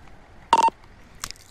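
Phone keypad dialing an ambulance inside a video game, two short electronic tone bursts about a second apart, crisp and close over a quiet background.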